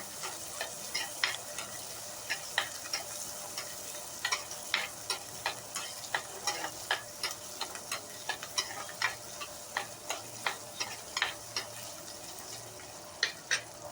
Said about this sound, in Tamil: வெங்காயம் நல்லா வணங்கி வந்துட்டுருக்குது இப்போ கோல்டன் ப்ரௌன் ஆகும்போது